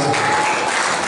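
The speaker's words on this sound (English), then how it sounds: "I think we should clap for them." A crowd applauds police officers of the FIB RIT Southwest at a ceremony, with loud, dense, continuous clapping throughout.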